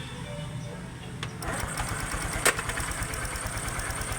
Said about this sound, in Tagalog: So gamit ang kickstart. Paminawo na to yung andar.